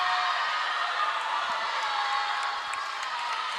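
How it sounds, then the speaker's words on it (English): Teammates at a girls' high school swimming race cheer and shout from the pool deck as a continuous, echoing roar of voices. A commentator talks over the crowd. "Their teammates are definitely cheering them on."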